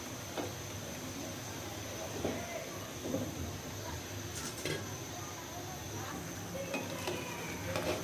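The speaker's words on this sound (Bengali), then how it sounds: "আমি একটু ভালো করে লাড়াচাড়া দিচ্ছি" Vegetables and shrimp being stirred in a pan for a curry with okra, pointed gourd and eggplant: faint, scattered utensil scrapes and light clinks over a quiet background, with no talking.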